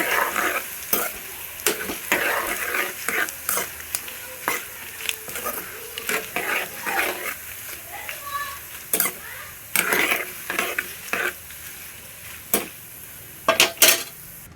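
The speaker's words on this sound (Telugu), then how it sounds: "అలాగే 2 స్పూన్లు ధనియాలు తీసుకుని ఫ్రై చేసుకుంటున్నాను" Coriander seeds and dried red chillies fry in a pan for a Telugu gongura pickle, with continuous crackling sizzle broken by repeated sharp scrapes and clinks of a spoon stirring against the pan, close and fairly loud.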